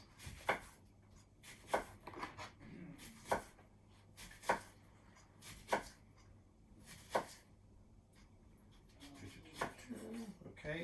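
A knife cutting through an orange on a board, a series of sharp, regular chopping thuds about one second apart, close and clear, over quiet room noise.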